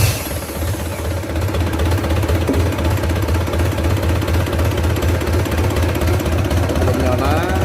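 A Mitsubishi 4D32 diesel engine runs on a test stand with a steady, loud knocking idle and rhythmic mechanical clatter, while people talk over it.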